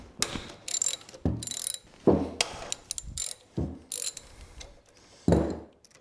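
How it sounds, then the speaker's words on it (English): A hand ratchet clicks in quick bursts while backing out bolts from motorcycle forward controls, several short ratcheting runs with pauses between, close by in a quiet garage-like space. "I'll take out these two bolts here."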